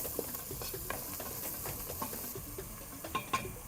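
Onions fry with spices in a pan at home, a soft continuous sizzle broken by light scraping and stirring taps, fairly quiet and close, with no voices.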